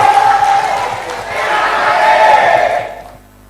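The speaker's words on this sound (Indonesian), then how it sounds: "memberikan tepuk tangan yang meriah kepada pasangan calon nomor urut 1" Supporters cheering and applauding a candidate pair at a regional election debate, a loud, dense crowd roar that holds steady, then fades out near the end.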